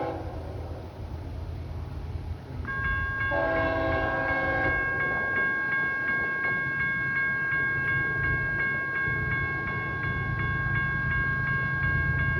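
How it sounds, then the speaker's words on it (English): CSX M327 freight train rolls around a curve over the rails with a low, steady rumble. A loud multi-tone horn blows for most of the stretch and a brief higher whistle-like tone sounds near the start. "I hear the rails. Hear that sound? The rails?"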